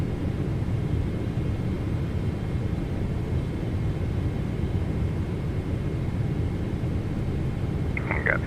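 Boeing 777-300ER on approach in Microsoft Flight Simulator, a steady low jet-engine rumble and airflow drone throughout, with a brief electronic tone near the end.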